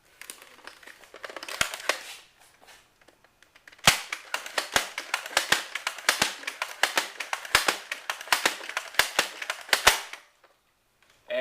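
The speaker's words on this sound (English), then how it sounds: "So I'm going to take a couple shots now." Modded Nerf Dart Tag blaster firing darts in quick bursts, a long run of sharp, close plastic snaps and pops, loose at first, then tightly spaced, with no talking.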